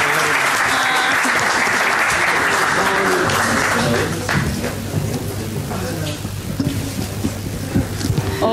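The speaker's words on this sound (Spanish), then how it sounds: "Un aplauso." Seminar audience applauding at the close of a session, dense sustained clapping for about four seconds that thins into scattered claps and room noise, with voices talking underneath.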